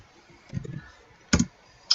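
A few quiet keystrokes tap on a computer keyboard while entering a command in AutoCAD, sparse isolated clicks in a quiet room.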